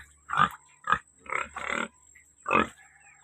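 Pigs on a farm grunt in several short bursts, close and fairly clear, over a faint steady hum.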